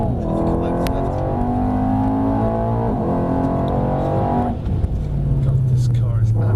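A 2018 Mercedes car accelerating hard on a track, a loud near engine roar with rising revs and a gear change, under someone talking over it from inside the cabin.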